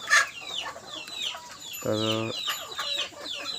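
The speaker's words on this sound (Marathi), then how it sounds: "अंडी पण मिळेल आणि मांसासाठी कोंबडा कोंबडी" Roosters and hens of a pure village breed cluck and squawk together in a farmyard, with several overlapping calls, one sustained loud squawk in the middle, and someone speaking briefly.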